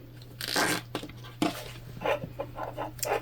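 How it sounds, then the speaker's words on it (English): Handling noises as a zipper pull is fitted onto a sewn fabric candy bag: close rustling and scraping bursts in an irregular rhythm over a steady low hum. "We're just putting our zipper pull on now."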